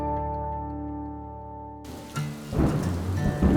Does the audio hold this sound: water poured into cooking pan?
no